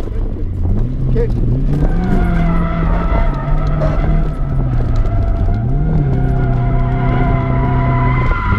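A car drifting in second gear with a clutch kick gives a loud, continuous engine roar, with revs climbing and falling in waves and tire squeal running throughout. Voices are faintly audible underneath.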